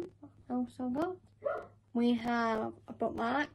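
Dogs bark somewhere in the background of an indoor unboxing, their short yaps partly buried under a close, clear voice that talks throughout.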